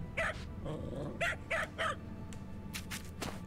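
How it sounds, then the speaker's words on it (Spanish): A dog in the video game Space Tail gives several short, sharp barks in an irregular series, fairly close and clear over a soft background score, with a few brighter tones near the end. "¿Te ladro? Mira. Ladrar le gusta."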